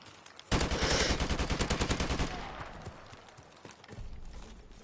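Rapid burst of AK-47 automatic gunfire from the Call of Duty video game, a dense string of loud evenly spaced shots lasting about two seconds before fading into quieter game noise.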